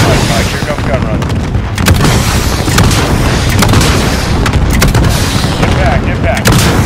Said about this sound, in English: Inbound with 35, Mike. Here comes gun run.